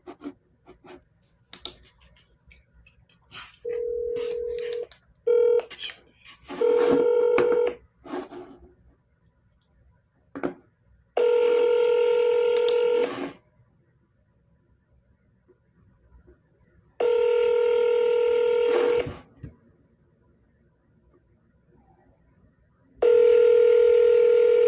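A phone call being dialed, a quick burst of keypad tones followed by several long ringback tones with pauses between them, unanswered, clear and moderately loud with faint background rustle.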